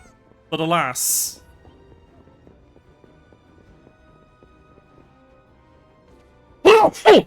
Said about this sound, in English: That was a sneeze, thank you.